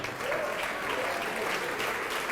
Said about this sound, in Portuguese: E está vindo mais, vamos aplaudir mais.